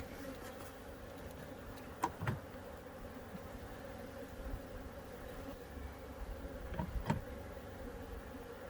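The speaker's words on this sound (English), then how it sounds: "you see inside you've got all kinds of bees in there" Bees inside a hive box with an inside feeder make a faint, low, steady hum, with a few brief knocks and bumps near the box.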